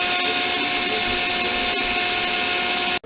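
Power drill boring holes in a primitive homemade guitar box, a steady loud whirring that runs continuously for about three seconds before cutting off abruptly.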